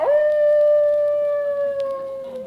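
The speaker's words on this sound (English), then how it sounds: "that sounded like a wolf" A single long, clear wolf-like howl rising sharply then holding a steady tone before slowly fading, loud and close with nothing else behind it.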